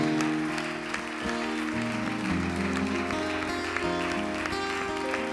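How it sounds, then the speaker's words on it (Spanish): A church congregation claps together while sustained music plays underneath, the applause a continuous crackling patter over the tones. "Dale un fuerte aplauso."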